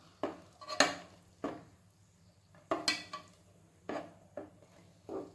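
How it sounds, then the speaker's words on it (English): A utensil stirs masala in oil in a pan for chhole, with distinct scraping and clinking strokes in uneven bursts and short quiet gaps between them, close and fairly clear. "We'll mix it properly for 5 minutes."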